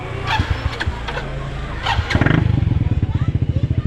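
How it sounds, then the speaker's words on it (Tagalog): A borrowed motorcycle engine starts: a few short cranking bursts, then a rapid, even idle putter close by, with people talking over it in the background. "Nangihiram lang tayo ng motor."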